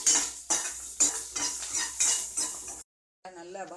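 Ridge gourd thovaiyal ingredients stirred and sautéed in a pan, a spoon scraping and clanking against the metal in regular strokes over a bright frying sizzle, close, before a brief silence.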